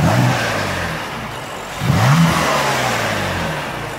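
Twin-turbo 3-liter inline-six in a new track-ready BMW M3 revs up close, its loud engine note swelling around the two-second mark and then settling back to a steady, rumbling idle.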